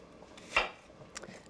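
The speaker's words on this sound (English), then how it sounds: "I'm going to cut some onion." A knife strikes a board once sharply while cutting red sweet onion for a salad, followed by a softer tap, close and quiet.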